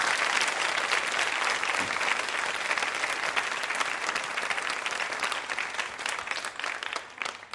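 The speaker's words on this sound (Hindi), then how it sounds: "तालियां तो बजनी ही चाहिए जोरों से" Loud applause from the audience at a Hindi quiz show, a dense, sustained roar of clapping that holds steady throughout and tapers slightly at the end.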